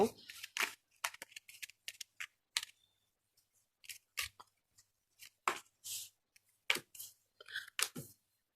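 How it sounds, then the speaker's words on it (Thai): Tarot cards are shuffled and split into two piles during a love reading, making quick close riffles and soft slaps in uneven bursts with brief gaps and no speech. "แม่หมอแบ่งไพ่สองชุดเช่นเดิมนะคะ"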